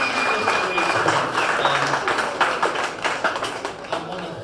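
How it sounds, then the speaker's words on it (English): Crowd at a drag boat racing awards ceremony applauding the drivers, a sustained run of clapping with crowd murmur and some talk in the background. "I think all you guys deserve a big round of applause."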